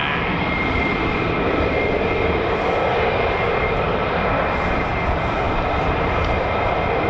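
USAF F-35A fighter jets fly near RAF Lakenheath, giving off a loud, continuous broadband roar that stays steady and close throughout with no talking.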